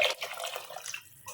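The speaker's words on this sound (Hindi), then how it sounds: "अब पानी इसमें शामिल करती हूँ मैं।" About three glasses of water poured into a cooking pot of arvi gosht curry: a close, continuous splashing and gurgling pour that thins out near the end.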